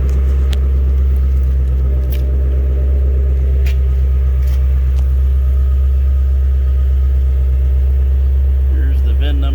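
A 2017 Shelby GT350R, suffering from oil consumption before an engine replacement, sits after a cold start, rumbling at a loud, deep, steady idle for nearly ten seconds with a few faint clicks above it.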